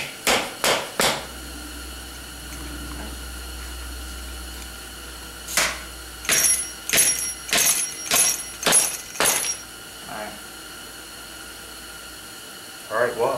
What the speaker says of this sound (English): I use that to hammer this down in.